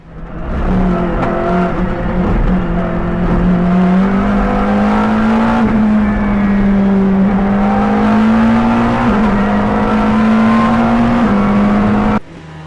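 A GT3 race car engine in the game Le Mans Ultimate drones loudly at steady high revs, its pitch climbing slightly and holding for several seconds with a whiny tone before cutting off abruptly near the end.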